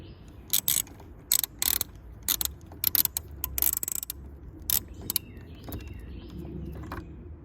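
Ratchet wrench working the battery terminal nuts on a Honda Acty kei mini truck, with a series of sharp clicking bursts in an irregular rhythm, close and clear, then quieter fiddling sounds.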